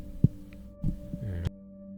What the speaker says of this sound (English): Sorry if that's making noise by moving the microphone like that.